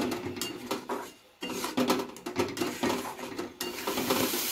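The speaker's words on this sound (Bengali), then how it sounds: "দইটা দেওয়ার পরে ভালো করে একটু মিশিয়ে নিয়ে আবার 2 থেকে 3 মিনিট আমি একটু কষিয়ে নেব।" Yogurt masala being stirred and fried in a pan for a Bengali steamed egg curry, with repeated scraping and clinking of a spoon against the pot over a soft sizzle, close, with a brief pause midway.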